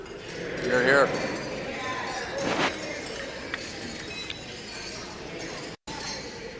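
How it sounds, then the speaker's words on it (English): Glasses clinking in a toast to the President at a Donald Trump inauguration gathering: a brief bright ringing clink early on, then a murmuring room with scattered small knocks and voices. "I ask you to join me in raising a glass to the President of the United States, President Donald Trump."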